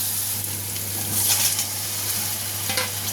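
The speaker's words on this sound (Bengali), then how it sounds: "একটু জলের সাথে আলুটাকে দিয়ে এবার ভালোভাবে কষে নেব" Potatoes added with a little water to spice masala for chole aloo, sizzling steadily in the pan while being stirred, with a close, continuous frying hiss and brief swells of scraping.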